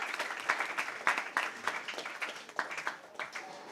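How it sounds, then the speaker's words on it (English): An audience at a finance conference claps in a moderate, uneven round of applause, individual hand claps distinct and fairly close, tapering off toward the end. "So huge round of applause to make sure that this thing went absolutely well."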